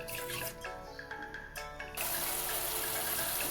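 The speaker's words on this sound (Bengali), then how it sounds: "মশলার বাটি ধোয়া জলটা দিয়ে দিচ্ছি।" Water from rinsing a bowl of ground cumin paste is poured into a hot pan of spices for a vegetable curry, giving a loud, steady rush and sizzle that swells over the last half and stays alone without talk.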